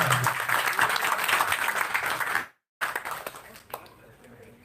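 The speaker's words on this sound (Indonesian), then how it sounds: "Tepuk tangan ini bagi Bapak Rama Sutardi." Audience applause at an anniversary gathering of a Banyumas family association in Jabodetabek, a dense burst of clapping that cuts off abruptly midway, followed by scattered claps and a voice over a loudspeaker.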